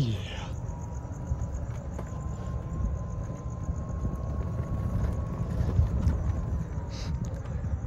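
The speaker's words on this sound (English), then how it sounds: "Didn't think I'd ever be back on the golf cart again." A golf cart drives along with a steady low motor and road rumble throughout, a faint whine running underneath, with no talk over it.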